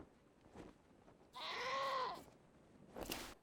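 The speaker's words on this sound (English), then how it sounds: "Ornate looking Billy Goat" A billy goat in the game Wasteland 2 gives one loud, wavering bleat lasting about half a second, set between fainter game sounds.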